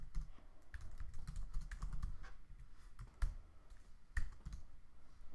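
Steady typing on a computer keyboard, a continuous run of soft key clicks with a few sharper taps, heard alone against low room noise.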